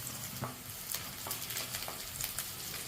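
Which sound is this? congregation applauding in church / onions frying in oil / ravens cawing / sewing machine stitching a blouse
onions frying in oil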